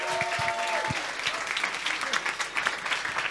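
A live audience at a stand-up comedy talent show finale breaks into loud, sustained clapping for a female comedian being introduced, dense applause with a voice briefly audible over it.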